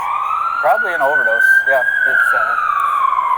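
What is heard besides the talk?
ambulance siren passing in the street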